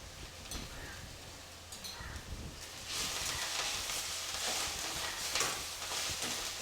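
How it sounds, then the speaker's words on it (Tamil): Ponnanganni keerai leaves sauté in hot oil, giving a soft crackling sizzle that grows louder and denser about halfway through, with faint rustling as the greens are stirred. "ஒரு 5 நிமிஷம் நல்லா இந்த மாதிரி கீரையை வதக்கி விடுங்க"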